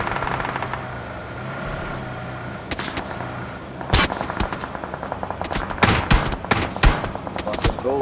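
Rapid sharp gunshots from a video game sniper rifle and other weapons, loud and close, with a helicopter-like drone underneath and sparse voices in the background.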